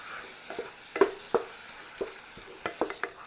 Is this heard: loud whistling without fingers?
no